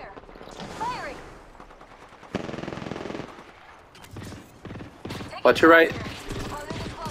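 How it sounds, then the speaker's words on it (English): Automatic weapon fire in the video game Apex Legends, bursts of rapid shots cutting in and out amid game effects while a voice speaks briefly over the action. "They're shooting at me."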